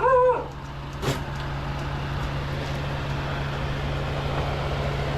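A stray dog in the Philippines gives one short, high whimpering yelp right at the start, followed by a steady outdoor background hum and faint distant noise.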